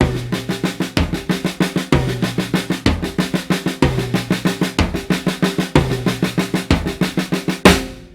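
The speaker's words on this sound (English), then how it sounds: "I might play it on the rack tom. Then I might move between the two toms." A busy drum pattern moving between the rack tom and a second tom, a lower and a higher drum struck in quick steady rhythm with cymbals washing over it, ending on a crash.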